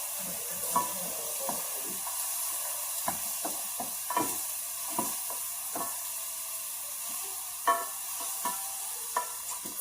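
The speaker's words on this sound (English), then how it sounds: "we're going to let that cook up for about another 2 to 3 minutes. We want to make sure that the garlic does not get too brown" Garlic frying in a pan, a soft steady sizzle with intermittent stirring clicks and scrapes from a utensil, close by and without talk.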